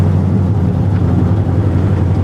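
Steady, loud low-pitched engine drone from a 1957 Chevy on the road, continuous and even throughout, motoring along at constant speed.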